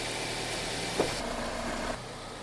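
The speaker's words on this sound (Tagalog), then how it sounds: "Sige, Nel, pakilagay mo nga sa drive. Okay, neutral" A car engine idles steadily with a faint click as the automatic transmission is moved into reverse, during a steering and engine-support inspection; the low hum runs continuously throughout.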